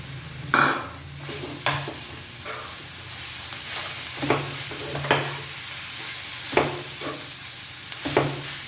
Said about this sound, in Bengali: আলু সেদ্ধটা একটু মেখে নিলাম, এবার এটা মিশিয়ে দেবো